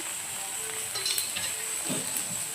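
Eggs frying in oil in a pan give a steady, quiet sizzle with a few brief crackles, close by and with no talking.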